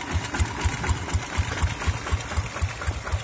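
Hand tractor engine running on a combined rotary and plow rig, a close single-cylinder chug with steady, even low thumps at about four per second under a rough mechanical clatter, no talking.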